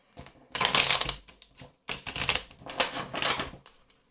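A tarot deck is shuffled in two quick bursts of riffling, crisp fluttering card slaps close up with a short gap between, with no talk.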